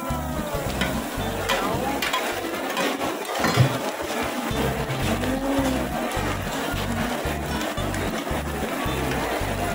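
Shellfish fry and sizzle steadily in a pan at a fair food stall, a continuous close crackling hiss with stirring clatter throughout.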